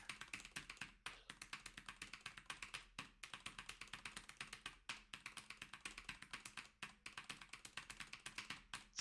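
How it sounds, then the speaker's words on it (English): Quick, steady taps of a computer keyboard, close but faint, keys clicking in uneven runs with short pauses, alone without talk. "now we're just gonna have to hear the sound of Pataraj's keyboard over and over and over again."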